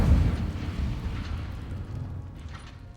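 Incendio fire spell from the Hogwarts Legacy video game: a low, rumbling fiery whoosh that bursts loudly at the start and then rolls on, slowly fading over a few seconds.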